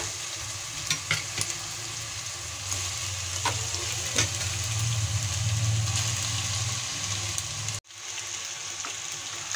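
Boiled pasta is tipped into a pan of fried onion and stirred, giving a low steady sizzle with scraping and stirring sounds and a brief drop near the end.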